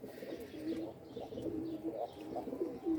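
Pigeons coo in soft, repeated throaty rolls, several birds overlapping at moderate distance with a faint chirp or two above.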